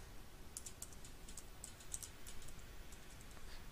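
Faint, irregular keystrokes as a password is typed on a computer keyboard, soft clicks scattered over a few seconds against a quiet background hiss.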